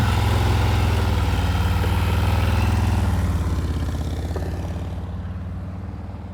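A motorcycle engine at slow riding-practice speed putters with a steady, low, near rumble that gradually fades and softens over the last few seconds.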